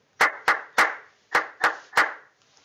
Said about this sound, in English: Once they've clapped the rhythm correctly